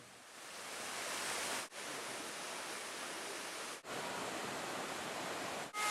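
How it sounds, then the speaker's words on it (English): Dark Hollow Falls, a tall waterfall in the Blue Ridge Mountains of Shenandoah, roaring as a steady broadband rush of falling water heard close up, constant and alone, with brief dropouts between segments. "We've made it to the bottom of Dark Hollow Falls. You see it right here behind us."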